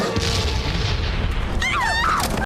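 Generic stock explosion effects from napalm in a low-budget 2004 monster film roar as a dense, continuous blast rumble, with a brief shrill cry near the end before the sound cuts off abruptly.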